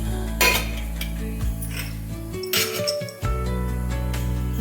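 A metal puttu-making vessel is handled, giving a few bright clinks and knocks of metal against metal, close and fairly loud, over a steady low background hum.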